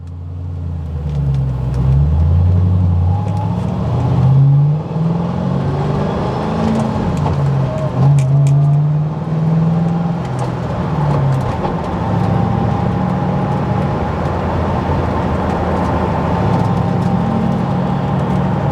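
A 2005 Mustang Saleen pulls away in first gear from inside the cabin, its engine revving up in rising pulls with gear-related dips, a loud, close mid-pitched drone continuing steadily.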